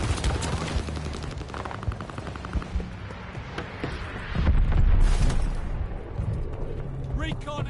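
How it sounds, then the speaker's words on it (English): Bombing run explosions and gunfire in Call of Duty Vanguard, rattling shots and dull booms building into a louder rumbling barrage midway, with in-game voice callouts heard. "Friendly bombing run on the way."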